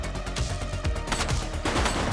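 Rapid bursts of gunfire from the police video game The Precinct, repeated shots and fusillade-like volleys filling the whole stretch loudly and densely, with no speech.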